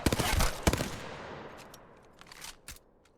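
Single-fire shots in the battle royale game Apex Legends, a few sharp separate cracks with ringing tails, the early ones louder and quicker and later ones fainter and spaced out.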